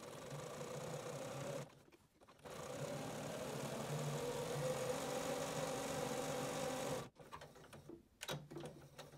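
A sewing machine runs steadily as it stitches a surgical cap seam. The close, continuous mechanical whir breaks off briefly twice, then resumes, with no talking.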